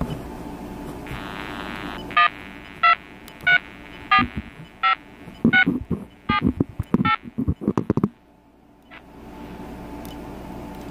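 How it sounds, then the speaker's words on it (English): Button presses on a BellSouth MH9934BK cordless phone handset, about a dozen short DTMF tones in a quick irregular run over a steady background hum, loud and close. "Let's try to see how the buttons work on the handset."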